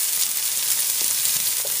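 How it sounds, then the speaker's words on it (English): Onions and garlic hit a very hot pan, a loud, continuous close sizzle with dense crackling that holds steady throughout without any voices. "Go ahead and add our onions in there."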